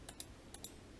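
A few quiet keystrokes on a computer keyboard, isolated clicks spaced irregularly over a second against a low steady hiss.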